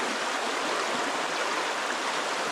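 Water trickling and splashing steadily through a gravity filter into a jug at a winter campsite, a continuous soft hissing flow with no breaks, fairly quiet and close.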